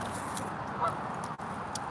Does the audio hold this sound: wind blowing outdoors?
no